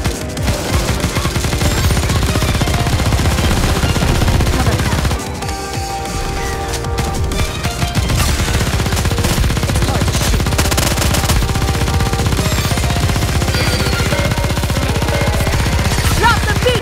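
Sustained automatic gunfire from the game Goddess of Victory: NIKKE hammers on loud and dense, with a brief dip in intensity partway before the rapid firing surges back at full force.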